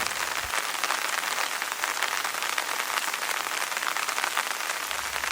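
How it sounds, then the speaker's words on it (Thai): Rain drizzling over an outdoor area at a tourist service point where elephants are watched, a dense, even patter of drops hitting surfaces that runs steadily without a break. "แต่เนื่องจากมีเม็ดฝนที่โปรยปลายนะครับ"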